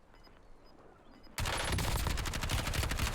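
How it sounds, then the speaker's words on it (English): Gunfire from a video game starts suddenly after a quiet moment with faint beeps, then a loud, dense burst of rapid automatic shots continues to the end. "Taking effective fire."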